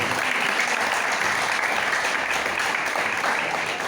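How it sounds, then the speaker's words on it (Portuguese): A church congregation applauds loudly and steadily during a worship service, a thick continuous mass of clapping filling the room without pause. "Você pode levantar um forte aplauso ao nome de Jesus?"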